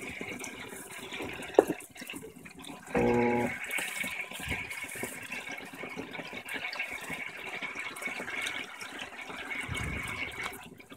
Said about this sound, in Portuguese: Uma máquina cheia de jeans. Ela vai demorar um pouco para encher.